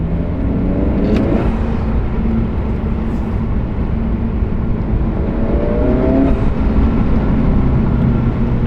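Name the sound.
Honda Civic Si turbo engine with PRL Stage 1 intake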